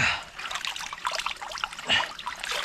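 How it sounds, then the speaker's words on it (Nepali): A small mountain stream on a Nepal trail near a bamboo bridge trickles and splashes steadily, close by and moderately loud, with nobody talking. "अब यहाँ एउटा सानो खोला छ"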